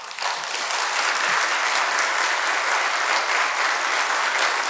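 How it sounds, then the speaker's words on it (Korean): A church congregation in Korea gives a speaker steady, full applause as he comes forward for a lecture. Many hands clap in a dense, even wash that starts abruptly and keeps going at a constant level. "다 같이 박수로 환영하겠습니다"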